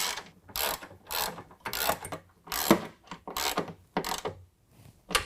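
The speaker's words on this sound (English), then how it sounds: "tighten up our 3 nuts." A ratchet with a 13 mm socket tightens the nuts on a stainless nerf bar rear bracket on a 2019 Ram 1500, giving rapid, close clicking bursts in a steady back-and-forth rhythm, about eight strokes with short pauses.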